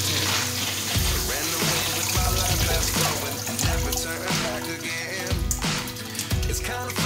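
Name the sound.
water running from broken flushometer in restroom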